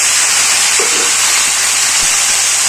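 Bottle gourd peels and chillies sizzle in hot oil, giving a loud, steady, dense hiss that fills the whole stretch with no talking.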